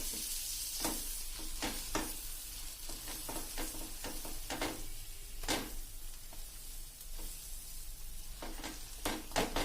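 Pav buns fry in melted butter on a flat tawa for masala pav, a continuous close sizzle punctuated by repeated spatula scrapes and stirring taps.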